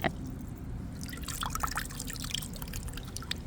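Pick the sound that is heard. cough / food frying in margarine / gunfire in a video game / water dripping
water dripping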